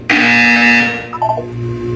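A Portal 2 video game buzzer sounds once, a loud, harsh tonal blast of about three-quarters of a second that cuts off sharply, followed by a few fainter electronic blips and a low hum.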